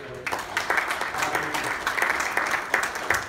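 A conference audience breaks into applause after a presentation, a short burst of moderately loud, dense clapping with a few sharper individual claps standing out.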